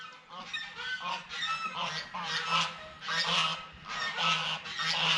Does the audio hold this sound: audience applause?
no